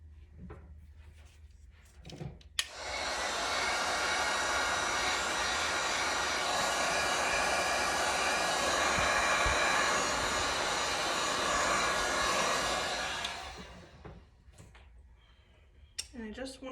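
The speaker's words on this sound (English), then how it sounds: "let me get my heat gun." A heat gun blows over resin flower coasters, a steady loud rushing hiss that starts abruptly, holds for about eleven seconds, then cuts off, with brief handling knocks around it.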